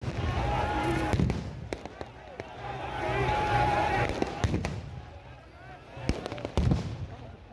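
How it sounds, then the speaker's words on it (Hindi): Tear gas shells fired at the Shambhu border farmers' protest, a series of sharp bangs and thuds spread across several seconds over a loud crowd din, with voices shouting throughout. "दनादन आंसू गैस के गोले गिरते चले जा रहे हैं"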